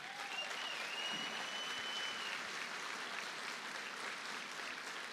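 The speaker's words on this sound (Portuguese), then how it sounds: "Gostaria que ficassem de pé para receber um aplauso da De Alfa pela vida de vocês." A church congregation stands and applauds a pastor couple, dense sustained clapping filling the room at moderate level for the whole stretch, with a few faint voices calling out over it.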